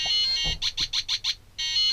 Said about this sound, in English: it makes it 5 beeps